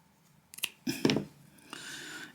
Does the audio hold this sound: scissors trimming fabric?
yes